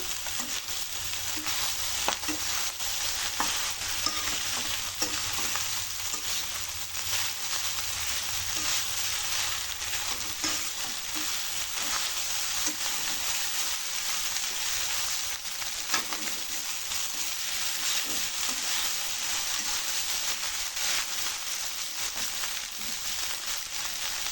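Egg fried rice sizzles steadily as it is stirred and tossed in a pan, a dense continuous frying hiss with faint scraping throughout and no voices.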